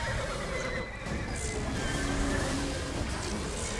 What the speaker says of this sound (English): I hear horses whinnying